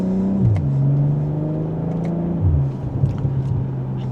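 BMW M440i Gran Coupe accelerating hard in sport mode from second gear, a loud engine note climbing steadily in pitch, a quick upshift, then the tone settling lower and quieter as the car cruises.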